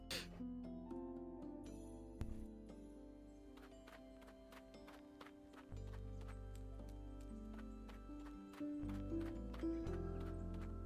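Video game horse hooves clip-clop steadily while riding, loud and near, over a bed of game music and ambient background sound.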